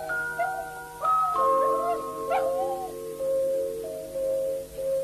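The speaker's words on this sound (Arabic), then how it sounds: "كأن صوت الكلب يقول هذا المعنى" A dog whines and whimpers in long, wavering high-pitched tones with short breaks, close up and fairly quiet.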